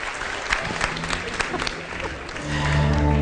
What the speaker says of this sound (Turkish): Alkışlar Bülent Hanım için.